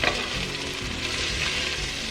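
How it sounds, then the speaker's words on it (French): Chicken curry browns in a pan after half an hour of cooking, giving a close, steady sizzle and crackle with a few stirring scrapes and no voices. "ça fait une bonne demi-heure que c'est en train de cuire. Et là il commence à être bien doré."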